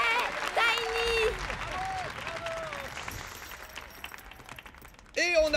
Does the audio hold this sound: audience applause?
yes